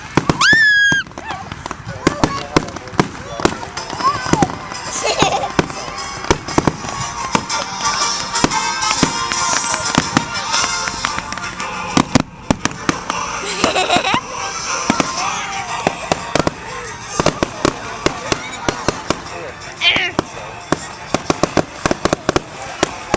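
Fourth of July fireworks explode in a dense, continuous barrage of loud cracks and booms over more than twenty seconds, with voices talking and calling out now and then beneath the blasts.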